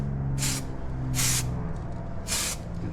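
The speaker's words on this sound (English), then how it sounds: "I reckon we're pretty much ready for you to do some spraying" Three separate hissing bursts of aerosol spray paint coating a brake caliper on a Nissan Skyline R34, each about a quarter second long, close and loud over a low background hum.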